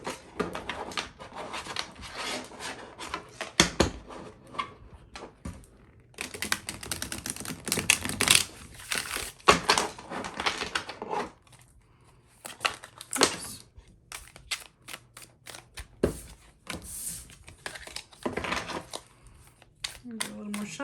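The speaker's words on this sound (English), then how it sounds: "Let me shuffle these up." Tarot cards are shuffled in repeated crisp, riffling bursts with pauses between them, close up, and a voice speaks at times.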